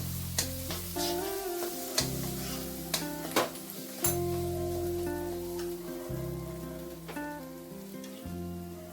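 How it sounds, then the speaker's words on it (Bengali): Spice masala sautéing in a pan for a vegetarian paneer dish, a steady sizzle with repeated sharp scrapes and clinks of a spoon against the pan, heard alone. "মশলাটা খুব ভালো করে কষাবো।"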